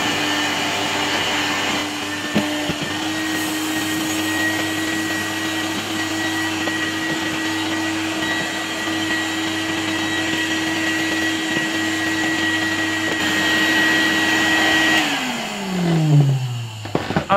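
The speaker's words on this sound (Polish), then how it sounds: "wykorzystajmy jeszcze ten odkurzacz w roli dmuchawej do przedmuchania części kurzu, której nie jesteśmy w stanie odkurzyć z tego silnika" A 1978 Zelmer type 96 vacuum cleaner with a type 84 motor runs continuously as a blower, a loud steady whine that winds down near the end with a falling pitch.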